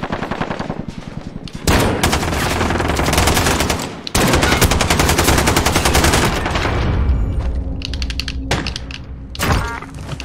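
Sustained automatic gunfire from Modern Warfare during a 3v3 match on the Docks map, loud and continuous bursts with brief gaps, plus sharp single shots and thuds near the end.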